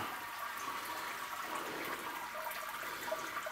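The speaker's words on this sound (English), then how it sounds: "So we're now draining." Hazy homebrew beer wort drains out during a brew day, a steady, moderately loud rush of flowing liquid with no pauses or voices.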